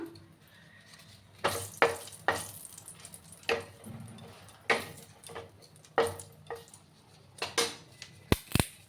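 Two dried red chillies hitting hot oil in a pan, a crackling sizzle broken by repeated loud scrapes and clatters of a spoon against the pot, no speech.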